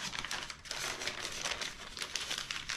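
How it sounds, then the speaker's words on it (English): Sheets of newspaper being crumpled by hand for spray-paint art, a close, steady crinkling and rustling with a few sharper crackles, no talking. "We'll just crumple it up again and"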